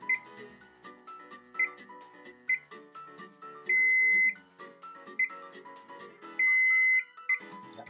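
Short electronic beeps from a multimeter continuity test recur under a busy, cluttered background, with two longer sustained beep tones standing out clearly, while testing a damaged PS5 controller.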